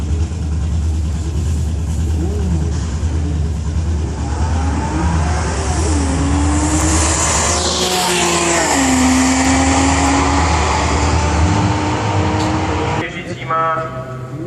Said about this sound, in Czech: vidíte, co udělá lehký auto se zadním náhonem, 320 koní